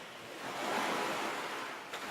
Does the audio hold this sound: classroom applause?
no